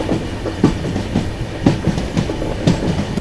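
A train runs along the Dharmavaram–Tirupati line just past Kadiri railway station, its wheels beating a steady, close clickety-clack rhythm over the rail joints, loud and without voices.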